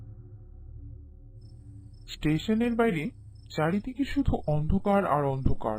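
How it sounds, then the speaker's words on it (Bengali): Crickets chirp in a steady high trill through a dark night outside a rural station, continuing faintly beneath a narrator's voice that takes over partway through. "ঝিঝি পোকার ডাক শোনা যাচ্ছে প্রবল ভাবে।"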